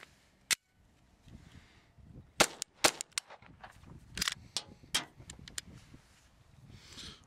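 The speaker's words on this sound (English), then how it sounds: "Another light primer strike on that one." A firearm firing CCI ammunition that keeps giving light primer strikes: sharp, isolated clicks and snaps at uneven intervals among quiet handling noises, fairly close, with no voices.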